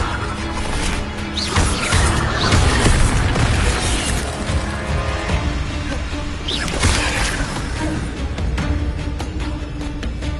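Incendio fire spells blasting in the Hogwarts Legacy video game, dense and loud with booming bursts, crashes and whooshes layered over continuous game sound for the whole stretch.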